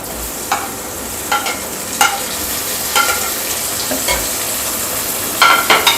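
Tomatoes frying in a hot pan of golden onions for fish pulao: a continuous close sizzle broken by a spatula scraping and tapping the pan at an uneven rhythm, with no talk.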